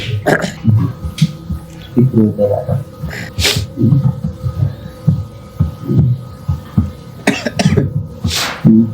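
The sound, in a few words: coughing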